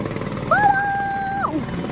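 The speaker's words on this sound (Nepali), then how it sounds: "यहाँ हेलिकप्टरको ट्रेनिङ हुँदैछ है" A training helicopter passes overhead in Leimakhong as a steady rotor drone with a sustained whining tone that rises, holds, then drops away. No one speaks.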